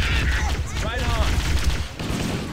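A dense barrage of gunfire rattles through a firefight in the video game Halo: Combat Evolved, with bursts and booms overlapping close by while voices shout over the shooting.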